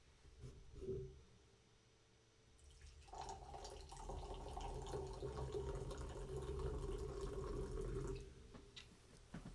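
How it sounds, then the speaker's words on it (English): A THC-infused lemon and rose drink is poured into a glass, a steady liquid splashing and trickling that runs for several seconds with no talking. "Let's give this a pour and see how this tastes."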